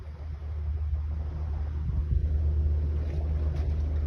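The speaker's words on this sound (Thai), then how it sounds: "เรือไปสวีเดนนะคะ" A large ferry sailing between Denmark and Sweden, heard as a steady low engine drone and rumble with wind buffeting the microphone and faint sea wash, continuous and fairly close, no talk.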